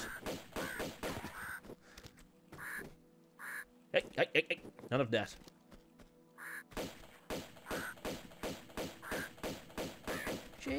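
Birds caw and squawk in repeated bursts as they attack in Tomb Raider 2 Remastered on the Great Wall level, with thuds of combat and someone speaking briefly between the calls.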